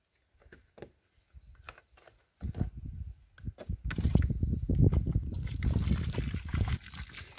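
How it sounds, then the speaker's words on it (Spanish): Water poured onto freshly prepared soil around a newly planted apple tree in a village garden: a few brief splashes first, then a continuous, louder pouring gush, close by. "Y ahora se le añade el agua."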